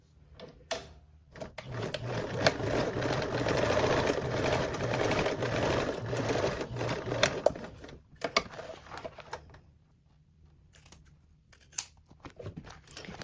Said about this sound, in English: And then sewing with that 3/8 of a seam.